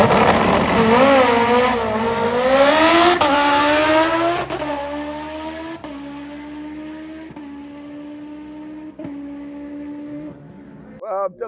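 A supercharged Suzuki Hayabusa drag bike screams through its gears at full throttle on a drag strip run, each rising whine broken by a quick shift, then fades away near the end.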